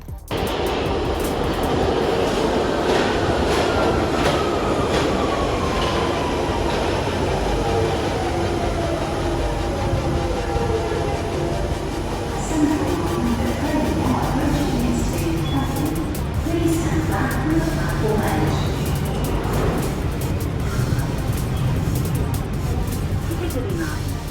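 A London Underground train rumbles loudly and steadily into a station, with a motor whine that slides downward in pitch as it slows to a stop.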